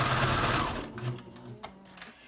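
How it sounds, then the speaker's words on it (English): Sewing machine stitching a seam on a fabric chemo cap: a close whirring run that slows and stops, followed by a few short bursts of stitching and small clicks. "So now when I'm sewing this seam, I've got to have some way to turn this one inside out."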